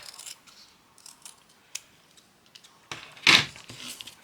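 Scissors snipping through fabric while making fabric word embellishments for mixed media, a few faint light snips and then one loud close cut near the end, with no talking.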